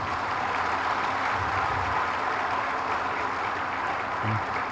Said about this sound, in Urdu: میں تالیوں کی گونج سے آپ کا ریسپانس سننا چاہتا ہوں